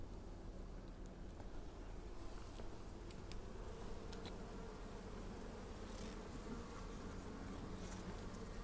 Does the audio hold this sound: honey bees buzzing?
yes